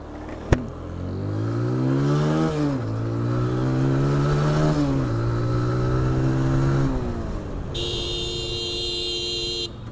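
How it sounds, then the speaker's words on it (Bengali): A TVS Apache RTR 160 motorcycle accelerates hard in first gear at night, engine pitch climbing in several rising pulls with brief dips between them, close and loud, followed by a vehicle horn sounding near the end. "হেডলাইট অন গিয়ার ওয়ানে আছে একটা টান দেওয়াই যায়"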